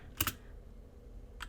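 A command being typed on a computer keyboard at a command prompt: a quick pair of key clacks close up, then a pause and one more keystroke, quiet and alone.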